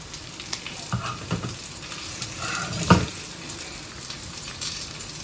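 Fish pieces, a spicy marinated freshwater fish, frying under a lid on a tawa, giving a steady soft sizzle with a few louder crackles and pops close by, no voices.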